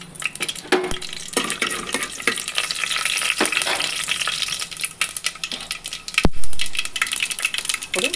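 Mustard seeds, cumin and fenugreek sizzling in hot oil, a dense continuous crackle and spatter close up, with a few metallic clinks of a utensil against the pan and a louder scrape near the end.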